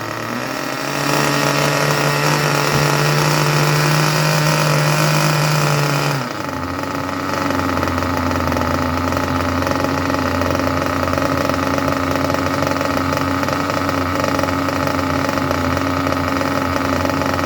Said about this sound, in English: if that is not an absolutely lovely idle, I do not know what is.